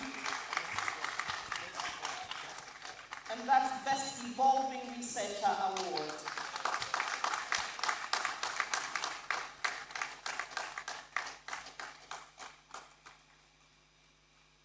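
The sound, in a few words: audience applause for an award winner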